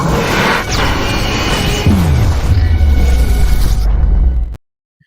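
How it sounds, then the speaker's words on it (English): Another explosion sound effect, a loud roaring blast with a whooshing sweep and a descending low rumble that runs about four and a half seconds, then stops sharply. "Let's give you an explosion real quickly here."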